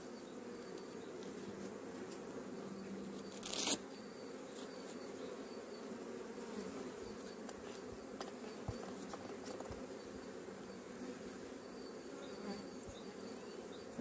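Honeybees at an open hive drone in a steady, close, continuous buzz, with a queen present among the colony; occasional brief clicks and handling noises break through, and no speech is heard.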